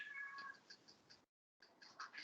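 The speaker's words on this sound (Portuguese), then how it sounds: "Tem um gato miando aí." A cat meows faintly several times indoors during a spiritist gospel study gathering. The soft calls come in two bursts separated by a brief silent gap.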